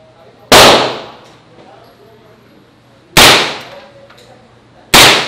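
Three loud, sharp bursts of MP5 submachine gun fire in the video game Modern Warfare, each with a quick decaying tail, spaced a couple of seconds apart as single shots rather than continuous automatic fire.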